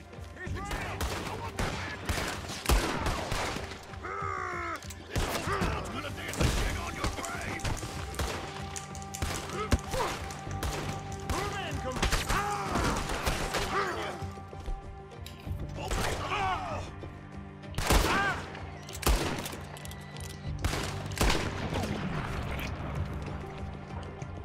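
Gunfire in Red Dead Redemption 2 during a shootout in the town of Valentine: dense bursts of shots crackle and pop almost continuously, loud and mixed with game sounds and effects throughout.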